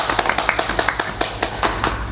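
Hands clap in a quick run of distinct, close claps at a Korean podcast recording introducing a dog trainer, each clap sharp and evenly spaced, with a low steady hum underneath.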